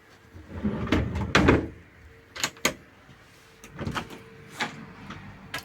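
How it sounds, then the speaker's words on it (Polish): Several wooden knocks and slides of kitchen drawers or cupboard doors in a 2015 Adria Action 361LH caravan being opened and shut, irregularly spaced, close by in a quiet room. "szuflady."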